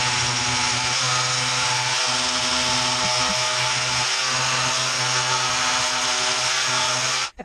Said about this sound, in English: this is quite a big tool. And as you can tell, it goes at a massive speed